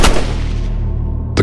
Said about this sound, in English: The gunfire is deafening.